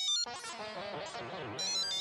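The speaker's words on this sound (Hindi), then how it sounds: "फोन बज रहा है" A phone ringtone plays as a bright, repeating electronic melody, loud and close, continuing throughout with no talking.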